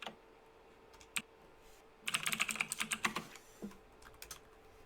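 Bursts of typing on a computer keyboard, a few isolated keystrokes followed by a quick, close run of clicky taps, then a couple more scattered presses in a quiet room.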